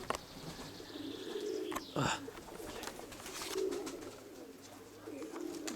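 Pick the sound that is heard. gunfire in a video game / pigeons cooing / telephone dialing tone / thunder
pigeons cooing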